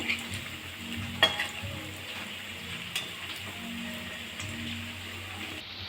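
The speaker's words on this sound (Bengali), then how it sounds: "উল্টে পাল্টে ভালো করে ভাজা করে নেব।" Langcha sweets of semolina and palm frying in oil, a soft continuous bubbling sizzle with an occasional clink as the pieces are turned, close and fairly quiet, no talk.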